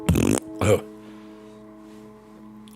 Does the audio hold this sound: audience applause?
no